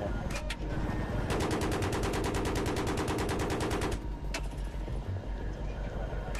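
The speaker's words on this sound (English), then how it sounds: "Still seeing a little tracer fire from somewhere" Rapid automatic gunfire in Battlefield 3 rattles in a long sustained burst, preceded and followed by scattered single shots amid game noise.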